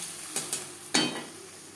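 Ground paste of three medium tomatoes dropped into a hot pan with fried coconut for vegetarian ghugni, a couple of light clinks, then a sharp burst of sizzling that fades gradually, close by with no talking.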